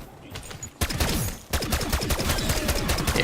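A DM-10 rifle fires in Black Ops 6, with rapid, loud shots packed into quick bursts after a brief quieter start and a short gap, then sustained close-range firing to the end.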